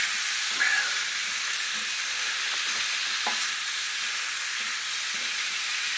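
Flour being stirred into hot oil in a frying pan, a steady soft sizzle and hiss with faint scraping of the spoon, close and continuous, without talk.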